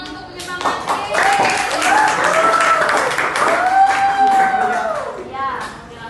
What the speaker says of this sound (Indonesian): kasih tepuk tangan untuk menyemangati